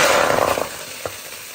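Catfish dropped into a hot pot for pepper soup gives a loud, close sizzling hiss that fades after about half a second, followed by a single short clunk and quiet simmering.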